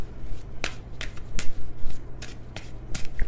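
A Stellar Energy Oracle card deck being shuffled by hand: quick papery riffles and sharp card snaps in an irregular rhythm, close and clear, with no talking.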